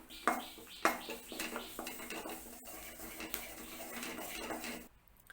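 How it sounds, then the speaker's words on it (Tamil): Washed, dried curry leaves dry-roasted in a pan, with clinks of a spoon against metal and rustling stirs, a couple of sharper knocks early, fairly quiet and close throughout. "இப்போது நம்ம கருவேப்பிலையை வறுத்துக்கலாம்"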